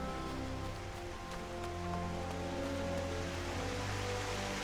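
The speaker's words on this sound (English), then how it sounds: "Pissing down the rain, which I love." Steady rain ambience in the Final Fantasy XIV Online PC game, a continuous wash of falling rain with faint drip accents, moderately quiet and even throughout with no voices.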